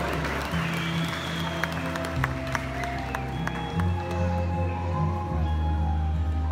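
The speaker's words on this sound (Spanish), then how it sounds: "¡Fuertes los aplausos!" Steady applause fills a school graduation ceremony, a continuous patter of many hands heard over a sustained low hum, with faint voices mixed in.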